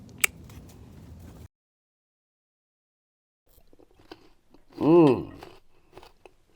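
A raw Jerusalem artichoke is bitten and chewed up close, giving a loud crunchy burst of crisp chomping for about a second and a half. Silence follows, then a short hummed sound of approval.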